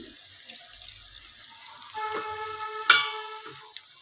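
Chopped coriander being stirred into cauliflower and potato bharta in a pan, soft scraping and light clinks of a spoon over a quiet sizzle, with one sharper metallic knock partway through.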